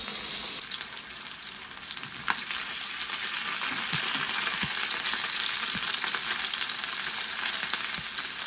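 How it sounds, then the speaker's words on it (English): Chicken pieces sear in a skillet, producing a loud, continuous close sizzle with a few soft clicks from the pan, with no talk over it. "we're just giving it a sear to help keep it from drying out and to give it a nice color"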